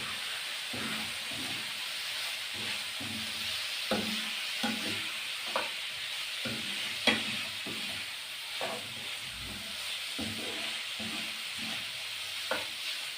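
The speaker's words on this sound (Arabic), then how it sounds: "واقلب برضو بالراحه" Alexandrian-style liver with turmeric sizzles steadily in a frying pan while a utensil stirs it gently, giving soft repeated scrapes and taps over a constant frying hiss.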